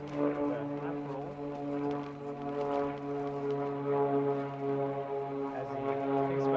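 A propeller engine of an aerobatic airplane performs competition figures at the US National Aerobatic Championships, a steady, droning buzz heard from a distance with strong sustained harmonics and only slight shifts in pitch.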